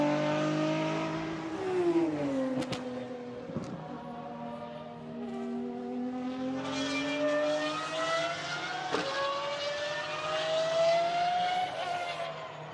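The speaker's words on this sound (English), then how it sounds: "So the Lamborghini SCV12 once more comes towards turn 8. Picks up the power, rides the curb." A Lamborghini SCV12 race car works through turn 8 on the Barcelona circuit, picking up power and riding the curb. A loud V12 engine note rises and falls through gear changes with sharp shifts, heard at close range throughout.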